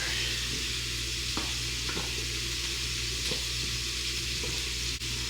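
Peppers and onions sauté in a pan for spaghetti, a steady close sizzle that runs without a break, with a few faint spoon taps and stirs on top.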